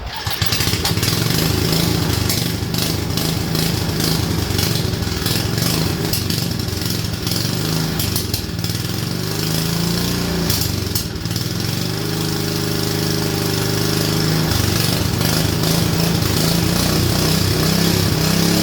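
A mini bike's small engine runs steadily after firing up, a loud continuous buzzing drone with slight shifts in pitch and throttle, close by and alone with no talk.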